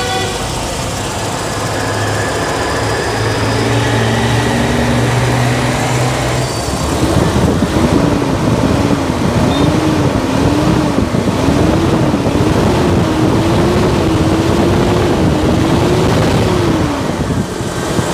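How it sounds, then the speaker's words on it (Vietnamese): A 2004 Toyota Zace GL with its stock fuel-injected engine idles steadily and loud nearby, a smooth continuous drone with wind noise over the microphone and a rising, wavering tone in the second half. "Máy nổ êm lắm,"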